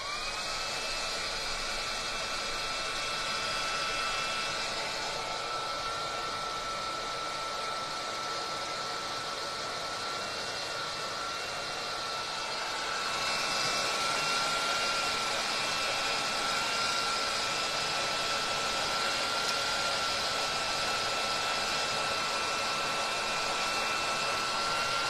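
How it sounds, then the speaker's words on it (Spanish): A hair dryer blows steadily on a rag doll's head as a constant close whooshing drone with a thin whine, briefly shifting in tone about halfway through, with no voices. "Y ahora sí voy a aplicar el secador"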